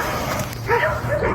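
A dog barking a few times in short yips, close by, heard beneath people arguing.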